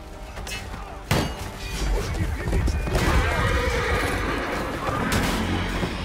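Horse whinnying inside a multiplayer video game, mixed with in-game clatter, impacts and battle noise throughout.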